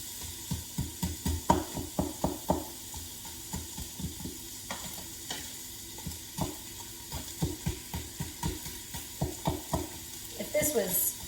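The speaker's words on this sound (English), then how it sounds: "Frozen chunks break up pretty fast once you put it on the saute function in an Instapot" Frozen chunks sauté in an Instant Pot on the sauté function, giving a steady sizzle under repeated scraping stir strokes of a utensil against the pot, close and fairly soft, with no talking.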